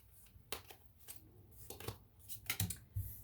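Tarot cards being shuffled and drawn, several soft papery swipes and flicks scattered irregularly, close and fairly quiet with no talking.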